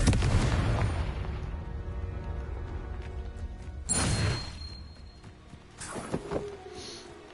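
Confringo blasting spell in Hogwarts Legacy: a loud booming explosion at the start that rumbles and fades, followed by two more sharp bursts, one near the middle and one toward the end, with no talking.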